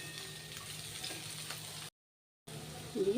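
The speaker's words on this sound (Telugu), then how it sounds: "దీన్ని వేగనివ్వాలి" Sliced okra frying uncovered in a pan over a low flame, a soft, steady, close sizzle broken by a short gap of silence, then resuming.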